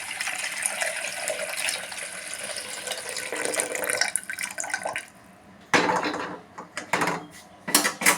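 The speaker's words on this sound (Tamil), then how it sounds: "இந்த லிக்யூடை அந்த பாத்திரத்தில் ஊற்றுறோம்" Banana-based liquid fertilizer poured into a vessel, a steady close splashing stream that pauses briefly and then resumes in short bursts.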